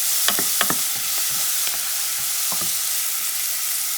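Eggplant stew ingredients are stirred in a sizzling pan, a steady close hiss of frying with a few light scrapes and clicks of the utensil.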